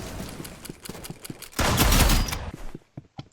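Rapid gunfire from a weapon in the Roblox game Rivals, a quick string of sharp repeated shots, then a loud dense burst of sustained fire, followed by a few scattered shots trailing off into near silence.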